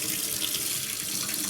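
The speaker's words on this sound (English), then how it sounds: "Rinse this out under water." A fountain pen cartridge from a Pilot Parallel calligraphy pen rinsed under a running tap, a steady continuous hiss of flowing water close by with no talk.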